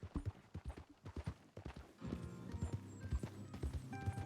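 Horse hooves clip-clop in a quick, steady rhythm in the video game Red Dead Redemption 2, close and distinct, with a faint tonal hum joining partway through.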